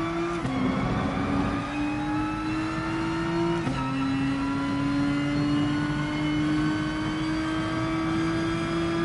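Nissan GT-R race car engine in Gran Turismo Sport, a steady high-pitched drone with a brief shift in pitch partway through, loud and alone with no talk.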